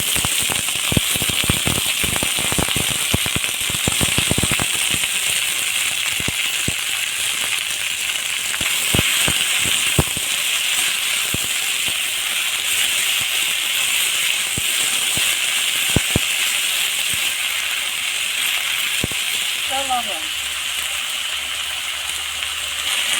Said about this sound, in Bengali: এখন আমি শাক তেলের উপর দিয়ে দিই